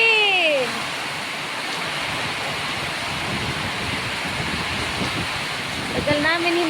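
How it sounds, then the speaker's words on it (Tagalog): Steady rainfall on a farm makes a dense, even hiss throughout, with brief chirping sounds at the start and end and no voices. "Tagal namin hinintay ang ulan."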